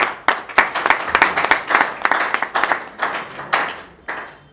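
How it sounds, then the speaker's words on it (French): Audience applause at a political campaign launch, loud crowd clapping in dense bursts for the full stretch with no talk over it. "qu'on va applaudir très très fort pour eux"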